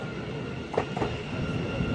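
Thameslink Class 700 electric train at Bedford station on the Midland Main Line, passing with a steady low rumble and a couple of brief wheel clicks, heard close and alone.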